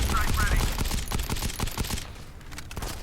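Rapid automatic gunfire from the mobile shooter game Modern Combat 5, fired in quick repeated bursts of sharp cracks that stay loud and close throughout, with a slightly thinner stretch near the end.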